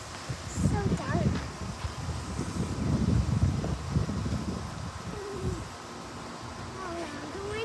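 Strong gusts ahead of a dust storm in Phoenix, Arizona buffet the microphone in heavy, uneven rumbling bursts that ease toward the end, while a person talks over the wind.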